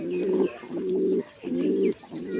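A pair of pigeons coo in repeated low, throaty phrases, close and fairly loud, with brief pauses between the rounds of cooing.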